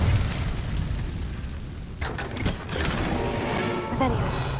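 The Incendio fire spell is cast in Hogwarts Legacy: a roaring, rumbling burst of flame runs throughout, with sharper crackling bursts near the middle, over steady game ambience.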